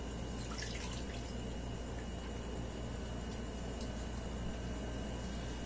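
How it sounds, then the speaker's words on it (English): A washcloth is soaked in water at a sink during a bed bath, giving a steady, soft wash of running and dripping water with no voices. "I'll be soaking this washcloth again with water"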